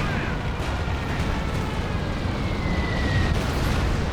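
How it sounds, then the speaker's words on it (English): A dive bomb explodes in a Company of Heroes 2 battle, a dense continuous roar of blast and rumbling debris filling the mix with a faint whistling tone sweeping through it, no voices. "We got a dive bomb somewhere here."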